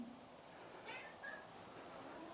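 Faint, high cat meows, one or two short calls close together, heard from a distance over steady background noise with no talking.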